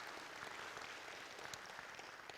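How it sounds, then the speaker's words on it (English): Audience applause at a federal election debate hosted by a chamber of commerce, a steady wash of clapping that holds evenly for a couple of seconds, fairly faint and distant. "So let's give GGP Video and Robbie Snooks there a round of applause."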